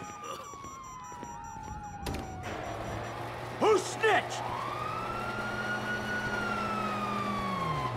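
Police sirens in Grand Theft Auto V wail and sweep up and down over steady background noise, and a voice speaks briefly partway through.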